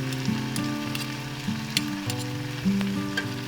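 Butter sizzling in a pan over a camping stove outdoors, a steady soft crackle with occasional pops, close and continuous beneath a low hum.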